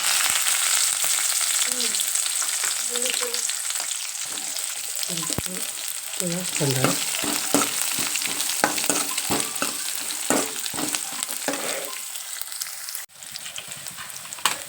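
Green chillies and onion frying in oil in a pan for flattened rice seasoning, a steady dense sizzle throughout with scattered stirring scrapes and clicks, fairly loud and close, no talking.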